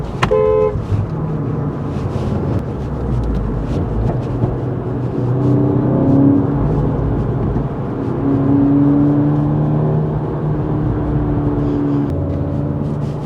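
A VW Golf GTI Clubsport S, a front-wheel-drive hot hatch, drives the Nürburgring Nordschleife with a steady loud engine drone and road roar throughout, its pitch rising and falling slightly with speed.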